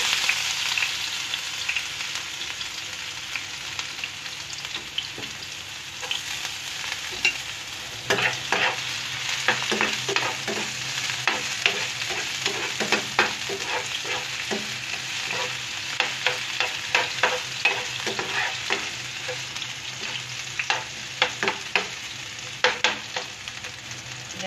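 Ginger sizzles and fries in a pan for ginisang mongo, a Filipino mung bean sauté, with a steady hiss broken by frequent clinks and scrapes of stirring throughout.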